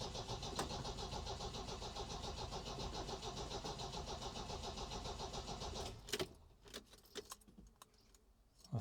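An MGB fitted with a supercharger cranks on the starter with a bit of choke in a steady rhythmic churn for several seconds, fails to fire, then falls quiet apart from a few clicks and knocks.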